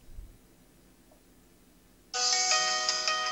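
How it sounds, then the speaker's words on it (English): A phone ringtone starts abruptly after a quiet stretch and rings steadily and loudly, triggered by an incoming call placed from a DIY SIM808 mobile phone module driven by an Arduino. "SIM808 calling to my phone"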